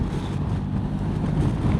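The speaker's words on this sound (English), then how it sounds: "It is a very windy day today." Strong wind buffeting the microphone on the Old Dunstan Road in New Zealand, a continuous low rumble, with no voices.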